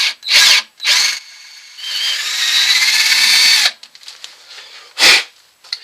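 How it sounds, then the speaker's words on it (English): A power drill with a large bit whines in several short bursts, then grinds steadily into a laminated sycamore and purpleheart wood bowl blank for a couple of seconds, followed by a final brief burst. "now I'm going to take the biggest drill bit I can find"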